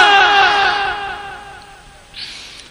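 A large crowd at a Bengali Islamic sermon gathering chants loudly in unison in response to a preacher, one sustained, voiced cry that gradually fades over a couple of seconds.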